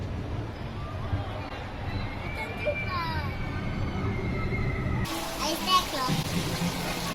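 Water splashing at Gardaland amusement park, a steady wash of moving water with children's voices and crowd babble throughout, and brighter splashes toward the end.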